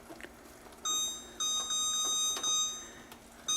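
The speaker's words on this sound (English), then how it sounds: "Start our timer and we'll come back at 4 minutes" Kitchen timer being set while making caramel corn: a string of short, high electronic beeps in quick succession, moderately loud against a quiet room hum.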